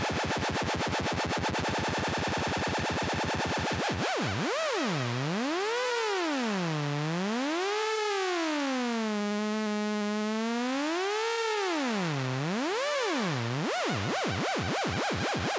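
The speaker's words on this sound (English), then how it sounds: "I think I'm going to choose a dub echo because that usually sounds quite cool" Dub echo effect from a Pioneer DJS-1000 sampler: a rapid stuttering pulse gives way to a wobbling, LFO-swept tone whose repeats rise and fall in pitch, playing loud and alone without talk.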